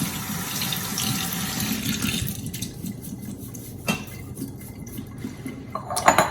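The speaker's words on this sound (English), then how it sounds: "with your quinoa, you will always rinse it. This, just give it a nice rinse," Quinoa rinsed under a running kitchen tap, a steady stream of water splashing into the sink for several seconds, close and fairly loud, with a brief clatter near the end and no talking.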